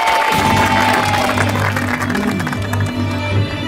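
An audience claps and cheers before a comedy stage scene, a steady mass of applause with shouting voices and a low hum beneath, continuous and fairly loud.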